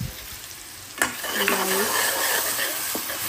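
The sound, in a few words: onions frying for chutney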